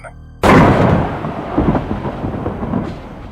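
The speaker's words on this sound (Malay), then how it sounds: "Bunyi guruh bersahut-sahutan" Thunder used as a sound effect in a horror audio story opens with a sudden loud crack, then rolls and rumbles on as the noise fades slowly.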